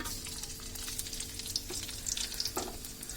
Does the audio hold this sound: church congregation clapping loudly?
no